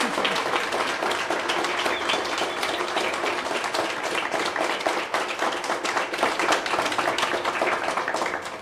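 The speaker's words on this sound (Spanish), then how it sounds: "Entonces pido un aplauso muy especial para Natalia." Sustained applause from an audience at an art exhibition fills the space, dense steady clapping for the full stretch with no talk over it.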